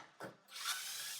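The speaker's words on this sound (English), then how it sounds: "remove this wood from the wall brackets by just undoing these with my nice Makita drill" Makita power drill backing screws out of wooden boards on wall brackets indoors: a short whir, a pause, then a longer, brighter spinning whine that holds steady.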